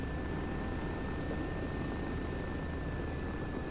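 Rotor and engine roar of Russian Mi-24 Hind helicopters in a flight-simulation game, a steady broadband drone with a faint high whine, constant and fairly distant throughout.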